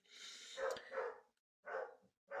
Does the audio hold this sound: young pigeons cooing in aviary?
no